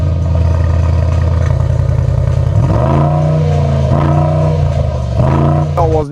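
A new car engine revving through a four-pipe original exhaust, first a steady idle and then several rising revs that fall back, loud and close.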